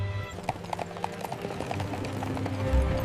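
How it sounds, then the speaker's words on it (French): Horses' hooves clip-clop steadily as a royal carriage approaches along a road, the rhythmic hoofbeats set over a continuous rumbling background bed with no speech. "elle entendit le son de chevaux"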